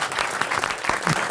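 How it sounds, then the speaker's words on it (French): Studio audience applause on a radio comedy show, a short, dense burst of many hands clapping, close and lively, with a few faint voices mixed in. "Vous pouvez applaudir Marc-Antoine Lebré."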